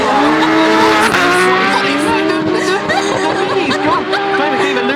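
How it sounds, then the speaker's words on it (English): Drift cars race in a twin battle at the 3 Sisters circuit during a British Drift Championship round, with a Mini pickup among them, engines revving loudly amid squealing tires, while people talk and laugh over the noise. "Dwayne McKeever loses a twin battle to a Mini pickup doing a wheelie"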